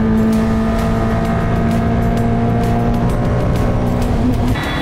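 An Ultima GTR sports car roars steadily and loudly close by as it passes at speed, a continuous high-revving drone throughout with no voices.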